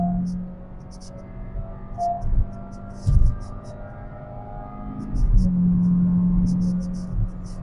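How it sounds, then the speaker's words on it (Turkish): A Honda Jazz hybrid car engine with a small naturally aspirated motor hums and rumbles steadily with a surge of revving under full-throttle acceleration, heard from inside the cabin with a low drone and occasional ticking. "Arabanın performansını ve sesini dinleyin ve gözünüz ekranda olsun."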